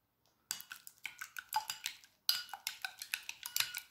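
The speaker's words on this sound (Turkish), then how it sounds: "Çırpıyorum güzelce." Egg white whisked with onion juice in a small bowl gives a quick rhythmic run of light clinking taps, two bursts separated by a short pause, close and fairly quiet.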